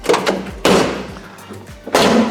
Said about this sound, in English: I've got this door closing.